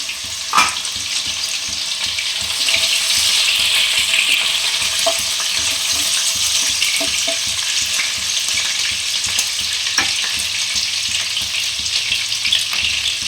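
Chopped green chilli fries in hot oil with a bright, steady sizzle, close and fairly loud, broken by a few sharp clicks of a spoon against the pan; no speech.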